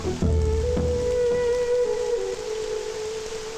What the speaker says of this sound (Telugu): అక్కడ వర్షం లేదా?